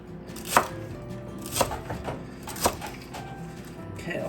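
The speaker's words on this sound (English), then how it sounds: "So we're gonna cut up some celery, some onion," Three crisp knife chops on a cutting board, spaced about a second apart, as celery, onion and carrots are cut, with a low hum of room noise between strikes.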